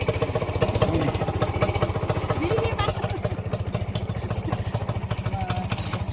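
A motorcycle engine putters with a fast, regular, even pulse, close and continuous, while voices talk faintly over it.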